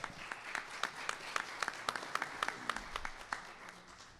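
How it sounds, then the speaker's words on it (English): Audience applauding at a panel discussion, a modest crowd of steady overlapping claps lasting a few seconds before tapering off, moderately distant with no talk over it. "Applause."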